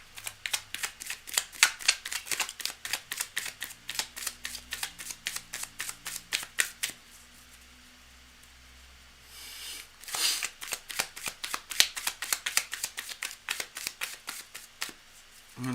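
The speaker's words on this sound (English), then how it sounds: "I just want to shuffle a bit more." Tarot cards are shuffled by hand in a long run of quick, crisp riffling flicks, with a brief lull midway before the rapid shuffling resumes, close and fairly quiet.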